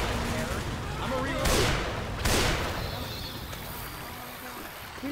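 AK rifle fire in the zombie shooter Left 4 Dead 2, two loud, broad bursts of gunshots close together amid continuous game noise, with players talking over it.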